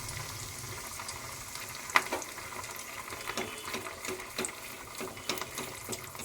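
Fish balls coated in cornflour and oat powder fry in a wok, a soft, even bubbling sizzle with a few small pops and taps, fairly quiet and close, with no speech.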